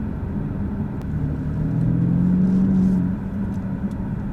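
BMW M3 Competition Pack F80 facelift with a modified exhaust, its engine grumbling steadily as a low rumble that swells in the middle and then eases back, with no talk over it.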